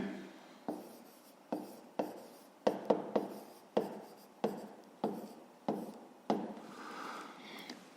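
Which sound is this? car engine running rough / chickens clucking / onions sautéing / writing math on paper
writing math on paper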